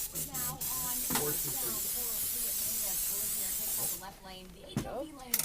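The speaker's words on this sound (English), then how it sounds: "we're going to spray them with a little non-stick cooking spray" A steady aerosol hiss of non-stick cooking spray coating muffin cups runs for about three seconds, bracketed by soft voices talking before and after.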